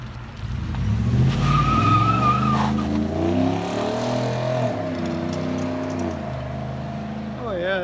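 A 2018 Ford F150 XLT with a 5.0 V8 and dual Flowmaster Super 10 exhausts revs up loud and close, the deep exhaust note climbing and then settling into a lower drone as it eases off.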